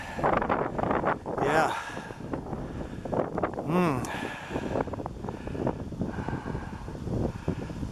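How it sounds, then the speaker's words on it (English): Cold wind gusting over a hillside above a lake, a steady rough rush against the microphone that swells and eases throughout, with someone talking over it. "That's a cold wind today."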